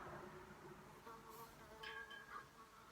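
A bee buzzes indoors, a faint, steady drone with no one talking over it.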